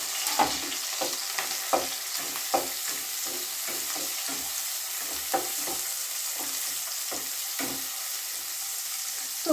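Onion and capsicum sizzling in hot oil for street-style fried rice, a constant frying hiss broken by repeated sharp scrapes and clanks of a spatula stirring in the pan.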